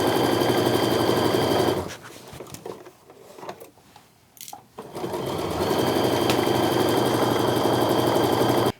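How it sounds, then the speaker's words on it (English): Sewing machine stitches a quarter-inch quilt seam, running steadily and loud, pausing briefly for about three seconds in the middle, then resuming its continuous whir to the end. "I'm just go ahead and sew that 1/4 inch seam all the way down."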